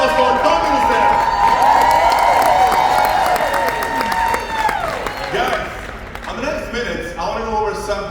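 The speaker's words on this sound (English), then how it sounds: "A big applause for Tony who's there." An audience applauds and cheers for an MC at an event, a dense wash of clapping with whoops and shouts that holds steady and then thins into scattered claps and voices.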